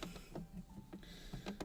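A domestic sewing machine stitches French seams on the bodice of an apron dress, giving faint, quick rhythmic bursts of needle clatter with short pauses and no talking.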